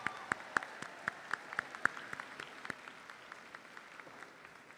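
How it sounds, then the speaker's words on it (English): Scattered audience clapping at a university undergraduate commencement, sharp individual claps in an uneven rhythm heard in a large hall, thinning out after a few seconds. "Let's give God a round of applause."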